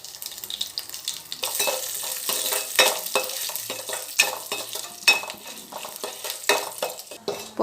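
Chana dal, urad dal, curry leaves and dried red chillies crackling in hot oil for a tempering, with asafoetida, bright spitting sizzle and repeated stirring scrapes in a small pan, fairly close.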